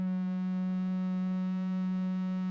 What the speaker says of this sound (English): it's mostly just this sine wave here